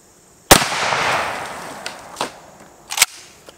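Shotgun firing a Hornady American Whitetail slug into water jugs outdoors: one loud sharp blast with a rolling echo tail, then a smaller crack and a double thump from the impact or splashing jugs.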